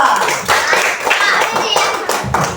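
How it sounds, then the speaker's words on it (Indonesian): Children clap their hands in a classroom quiz, a quick burst of fairly loud, uneven claps lasting a couple of seconds, with kids' voices mixed in. "Kasih tepuk tangan untuk media"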